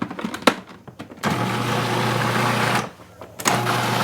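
A food grinder or processor whirs steadily through most of the clip, breaking up dessert ingredients in a home kitchen, with a short pause before the motor starts up again; brief clatter precedes it.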